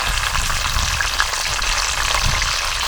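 Green chili, curry leaves, ginger and garlic sauté in a hot pan of oil, giving a steady, close crackling sizzle that runs without a break for about three seconds, with no voices.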